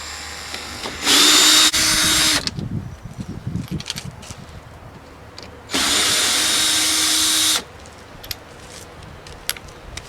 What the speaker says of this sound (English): Let me take out this top row of screws.